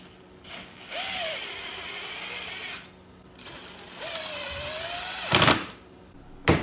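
A powered ratchet on Torx bolts on a 2024 Ski-Doo Rev Gen 5 snowmobile hood whirs in two sustained bursts with rising and falling whine, each ending in sharp clicks, recorded up close with no speech.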